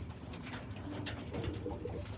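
Young homing pigeons hanging out around their loft, giving soft low coos amid a steady outdoor rumble, with a couple of faint high whistling notes and light rustling of wings.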